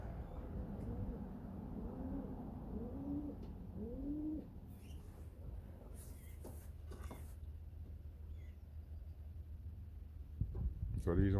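Young racing pigeons coo in soft, rolling repeated calls close by, followed by a few rustles and knocks from their loft or cage, with a low steady background hum.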